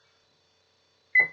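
An oven timer being set after a rack goes into an oven heated to 400 degrees gives a single short electronic beep near the end, loud against otherwise silent air.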